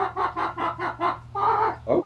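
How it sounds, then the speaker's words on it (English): A chicken clucks loudly and close in a rhythmic run of about eight evenly spaced clucks, ending in a longer, drawn-out squawk. "I think it's that chicken that Alice Cooper threw back in the crowd"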